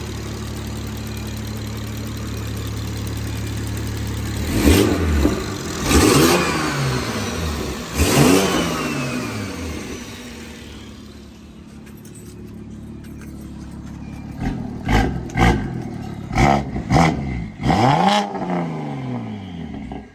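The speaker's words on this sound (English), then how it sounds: "So you're gonna rev it a little bit to hear the turbo spool real quick." A turbocharged BMW 440i B58 engine idles, then revs sharply several times, each rev rising and falling, with a faint whistling turbo spool; quieter stretch between bursts.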